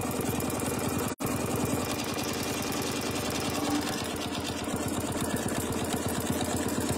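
Sewing machine stitching a crosshatch quilting pattern with a template, a steady rapid mechanical chatter running continuously with one brief break near the start.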